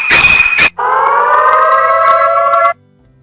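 A mobile phone anti-theft app sounds its alarm tone: a loud electronic siren that blares briefly, cuts out, then returns as a sustained rising wail before stopping abruptly.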